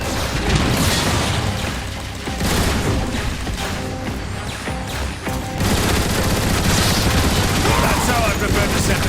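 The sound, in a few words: grenade explosions in Transformers: War for Cybertron video game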